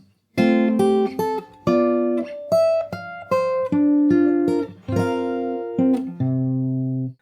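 A longer passage of the Animal Crossing New Horizons theme on fingerstyle guitar, with plucked melody notes and bass over steady chord changes. The playing is close and clear, each phrase ringing briefly before the next, and ends on a sustained chord.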